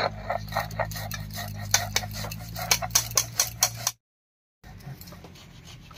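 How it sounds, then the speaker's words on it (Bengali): Mustard, poppy seed and green chilli are ground into a paste with salt on a stone, giving a run of close, rhythmic scraping and knocking strokes that stop abruptly, then faint noise returns. "হালকা করে একবার বেটে নিয়েছি, এবার একটু লবণ দিয়ে বেটে নেব।"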